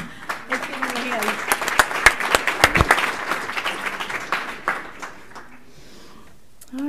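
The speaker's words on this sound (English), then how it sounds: "Let's give him a hand" Audience applause at a school board meeting, loud sustained clapping from a crowd that builds then tapers off, with a voice speaking briefly at the end.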